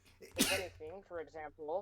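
A single sharp sneeze bursts out loudly and close, immediately followed by a person talking.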